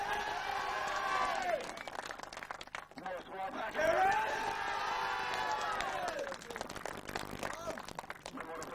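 Crowd at a 1999 county minor football final celebration cheers and whoops with scattered clapping, a loud burst rising mid-way and again later, mixed with voices and talk throughout.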